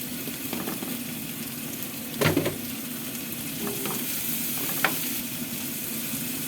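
Shrimp frying in a pan sizzles as a steady hiss, with a couple of brief clatters from stirring or handling, in a home kitchen in Japan.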